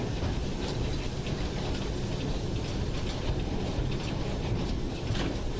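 From the cab of Standard class 4 steam locomotive 75069 running on the Severn Valley Railway comes a steady, dense rumble and rush of wheels and motion, loud and continuous with no speech.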